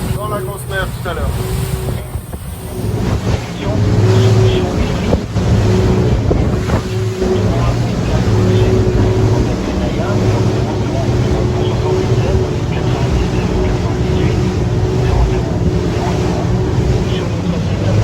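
Cap Camarat 10.5 CC motorboat cruising at speed on a rough sea, with a steady loud engine drone, hull slapping on waves and wind buffeting the microphone throughout, while someone talks over it.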